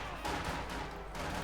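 MG42 machine gun fire in Company of Heroes 2 comes as a dense, rapid burst of gunfire mixed into ongoing battle noise, loud and continuous for about a second and a half.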